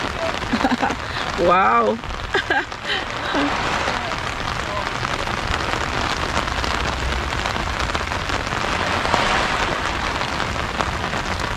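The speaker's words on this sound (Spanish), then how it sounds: "Y un día con mucha lluvia." Heavy rain pours steadily in Canada, a dense, continuous hiss throughout, with brief exclamations from people near the start.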